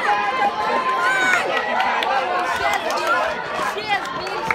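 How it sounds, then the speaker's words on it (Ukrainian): Spectators crowd the stands at a school relay race, their chatter and calls forming a dense, steady roar that continues without pause. "Вболіваємо на трибунах."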